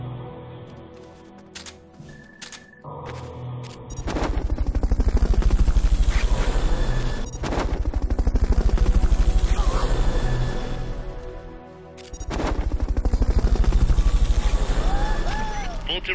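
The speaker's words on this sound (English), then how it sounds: "Fulton recovery helicopter is complete." A Fulton recovery helicopter in a Metal Gear video game sounds a loud, steady rotor chop that swells and fades over several seconds, with game music and voices underneath.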